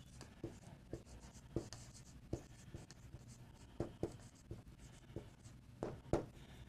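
A pen scratches and taps on paper in short irregular strokes, quiet and close with pauses between bursts, no voices.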